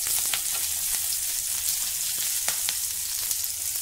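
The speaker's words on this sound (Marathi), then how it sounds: "मिरची, मिरच्या व्यवस्थित परतवून घेऊ" Green chillies fry in hot oil in a pan for a potato khichdi, a close, even sizzling hiss with a few faint taps of stirring and no voices.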